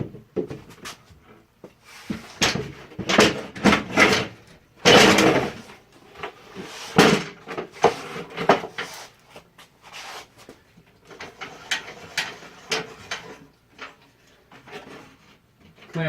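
Wooden clunks, knocks and scraping from a 2x4 being set and clamped in the jaws of a Black & Decker Workmate, close by in irregular bursts with short pauses between.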